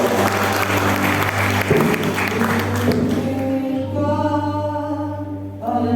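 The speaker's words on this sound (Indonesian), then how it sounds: "sama-sama katakan tepuk tangan panjang buat kemuliaan Tuhan" A church congregation at a Sunday worship service gives long applause, steady clapping layered over a sustained low electronic hum, with clapping thinning after a few seconds as sustained keyboard tones come in.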